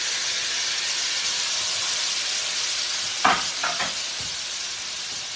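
Sliced onions go into reheated palm oil, giving off a steady broad sizzle and hiss, with a couple of brief clatters from stirring near the end.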